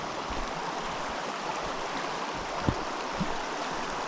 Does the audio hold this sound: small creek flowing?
yes